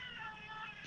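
A cat's meow, heard during a tabletop role-playing game session: a single faint, drawn-out cry with no talk over it, ending in a brief louder burst.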